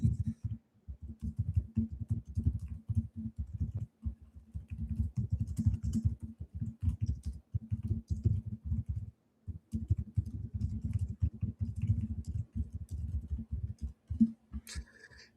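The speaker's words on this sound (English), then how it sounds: "I will be typing notes" Rapid, steady keystrokes on a computer keyboard as someone types notes, a dense run of close clicking taps with brief pauses, no talking.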